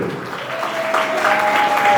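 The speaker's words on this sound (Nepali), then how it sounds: "जोडा ताली एकचोटि उहाँलाई।" Audience clapping at a debate competition, a dense steady patter of many hands that swells slightly toward the end, with a faint sustained tone running beneath it.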